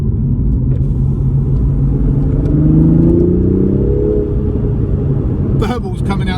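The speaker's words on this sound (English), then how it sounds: "there's a deeper tone even in normal mode, which sounds great. Let's switch it over into sport." A 2020 Toyota Supra with a PCW exhaust modification rumbles deeply up close, its note climbing in a rev before settling back to a burbling idle; a voice briefly cuts in at the end.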